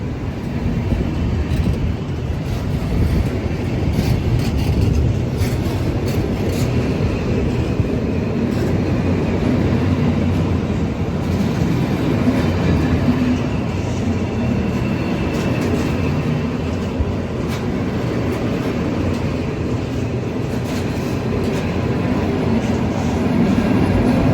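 Trains passing through Carlisle station, a continuous rumbling rail roar with faint clanks and squeals, steady and fairly loud without pause.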